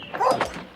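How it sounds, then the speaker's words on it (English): Two dogs bark fiercely in a short, loud burst of overlapping yelps, close and agitated, staged as a sound effect in an audiobook. "both dogs, barking fiercely, again flung themselves on it from opposite sides"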